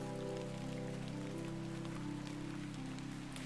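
Rain patters steadily on a surface, a soft continuous hiss with a low constant hum underneath, faint and unbroken throughout.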